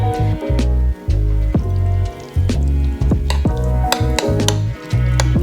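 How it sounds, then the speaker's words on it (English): Onion, hot pepper, salt and olive oil being mixed into a choka in a bowl, close wet squishing and stirring in uneven bursts with brief pauses, no talking. "We're going to add some more sliced onion, some hot pepper, some salt, olive oil again, and give it a good mix"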